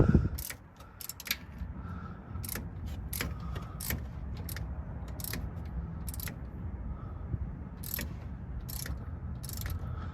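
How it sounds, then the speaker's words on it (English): Sharp metallic clicks of a ratchet tightening the mounting bolts on a 2005 Dodge Ram 1500 power steering pump, arriving in quick irregular bursts over a low garage hum, close and moderately loud, no speech. "I'm gonna mount the 3 bolts back up."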